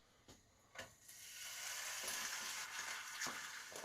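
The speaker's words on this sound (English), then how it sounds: "I'm just going to chuck some bacon in as well." Bacon rashers and Polish sausages frying in a pan, a steady hiss of sizzling that builds after a couple of sharp taps and thumps at the start, continuous and close with no talking.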